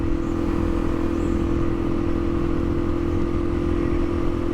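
A 2022 Suzuki DRZ400 motorcycle drones steadily at constant speed, its engine a loud, even hum mixed with wind rush and no clear gear changes.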